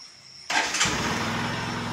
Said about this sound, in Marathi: बघा, मी बाईक स्टार्ट केलेली आहे।